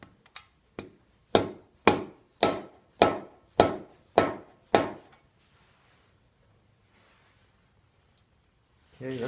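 A freeze plug being hammered into an engine block, about nine sharp metallic strikes in a steady rhythm, close and loud, followed by near silence.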